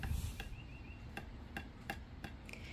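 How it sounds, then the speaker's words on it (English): A child hammering outdoors gives about eight light, evenly spaced taps, faint and fairly distant over a low steady background hum. "hammering in another spot."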